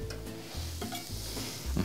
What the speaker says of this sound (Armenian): հիմա միացնում ենք գազը և ավելացնում ենք սխտոր և իմբիրը